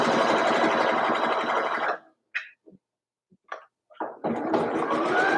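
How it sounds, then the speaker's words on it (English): A sewing machine top-stitches a sweater seam in a steady, close whirring run. After a short pause with a few light clicks and shuffles, the stitching starts up again. "So by top stitching this, it just helps to keep that seam allowance flat."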